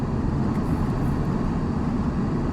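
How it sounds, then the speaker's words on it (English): A video-game airplane flies overhead to drop loot, making a steady, dense engine roar that stays constant throughout. "Oh, it's an airplane! Oh, it's dropping loot."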